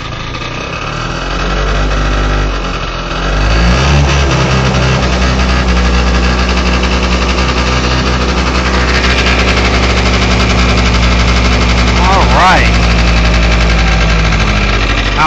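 A scooter engine idles loudly and steadily right after a cold start, a close, dense droning rumble with a faint knock that holds for the whole stretch.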